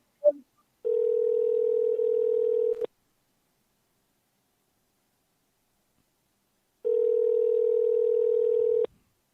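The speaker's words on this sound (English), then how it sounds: "the president's phone is ringing." Two long electronic telephone ring tones separated by several seconds of silence, clear and loud, with nothing else audible.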